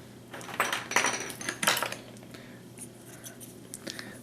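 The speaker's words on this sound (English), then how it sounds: "You're going to cut them to length." Cheap dollar-store wooden dowels being cut to length, a few sharp snipping clicks close by, then lighter scattered taps and rattles.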